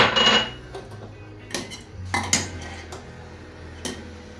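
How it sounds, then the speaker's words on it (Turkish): A spoon clinks and scrapes in a bowl as flour, yogurt and lemon juice are stirred together for tripe soup, with a few sharp metallic taps standing out over soft mixing, close and moderately quiet. "Karıştırıyorum."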